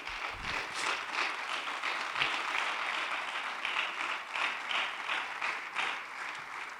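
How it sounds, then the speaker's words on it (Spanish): A church congregation applauds the Lord during a sermon, a steady dense wash of many hands clapping together that holds at an even level for several seconds. "Dele palmas al Señor"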